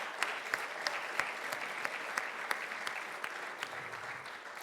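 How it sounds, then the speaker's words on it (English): Steady applause from an audience at a teacher appreciation awards ceremony, a dense wash of many hands clapping with a few sharper claps standing out, continuous and moderately loud throughout. "I want to give them a huge round of applause"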